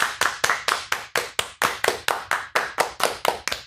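Hands clap in a steady, even rhythm, about four claps per second, loud and close with no voices.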